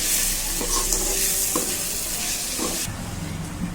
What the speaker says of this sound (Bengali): চালটা দিয়ে আমি 5 মিনিট ভালোভাবে কষিয়ে নেব।